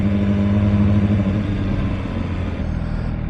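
A stock-exhaust MV Agusta Brutale 1000 RS naked motorcycle rumbles close and loud during a test ride, its engine a steady deep drone that eases slightly toward the end.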